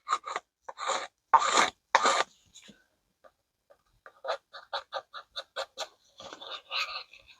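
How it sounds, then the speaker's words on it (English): A stick is scraped clean of resin while mixing a geode tray pour, making short raspy strokes, first a few heavier scrapes and then a quick rhythmic run of lighter ones, close and clear with no talking. "So I'm going to scrape that all off that stick."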